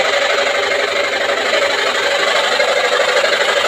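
A Chinese-made washing machine running with an abnormal noise, a steady loud mechanical whir and rattling drone that continues without a break, close up.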